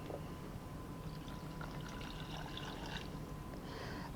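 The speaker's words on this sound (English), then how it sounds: "add the water" Water is poured into a saucepan holding sugar to make a one-to-one syrup, giving a steady, close pouring and trickling sound throughout with no talking.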